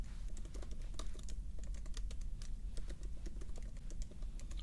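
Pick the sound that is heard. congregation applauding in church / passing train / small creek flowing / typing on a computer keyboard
typing on a computer keyboard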